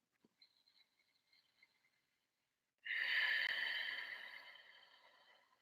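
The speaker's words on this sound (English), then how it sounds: "you make that whispery sound called ujjayi breathing or the ocean sounding breath" A breathy, whispery ujjayi yoga exhalation with a hollow, ocean-like rush, starting suddenly after near silence and slowly fading over a few seconds, close up.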